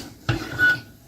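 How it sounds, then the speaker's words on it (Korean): A metal lid clanks shut on a pot of soaked rice, water and bean sprouts: one sharp close knock followed by a softer rattle as it settles. "이렇게 앉힌 걸 뚜껑을 닫겠습니다."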